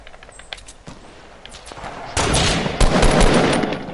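Dense burst of video game gunfire during a firefight, with a shotgun blast among rapid overlapping shots, loud and close, following quieter scattered shots and footsteps.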